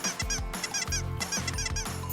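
Rapid bursts of nasal quacking and honking from several ducks, overlapping in a busy, close chatter.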